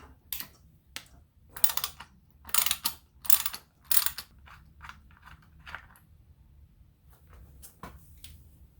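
A ratchet turns a 19 millimeter socket on a transmission fill plug, giving bursts of sharp, close clicking strokes in uneven groups, louder early on and tapering to lighter, sparser clicks.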